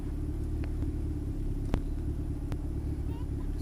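A turbocharged Honda Civic fitted with a full custom exhaust system drives along with a steady, loud low rumble throughout, broken by a couple of faint clicks and knocks from inside the cabin.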